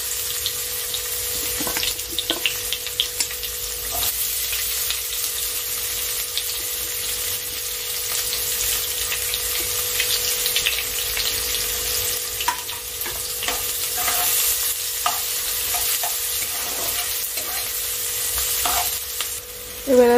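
Chopped onion frying in a pan with a steady, close sizzle, with a spoon scraping and stirring at intervals throughout.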